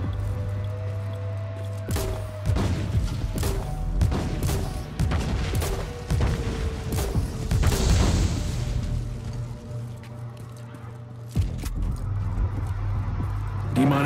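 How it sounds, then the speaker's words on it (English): Grenade launcher rounds fire and burst in Warhammer 40k Inquisitor, a series of sharp thumps and explosions spaced irregularly over a steady low hum, with a heavier cluster in the middle. "Grenade launcher does run out of ammo quickly,"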